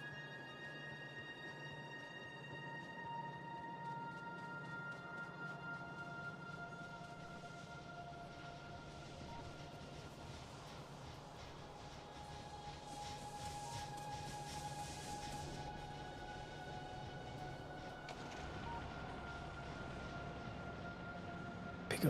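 A train rumbles and drones steadily in the game Factorio: Space Age, a faint continuous mechanical hum with sustained tonal whine, quiet throughout with no talking.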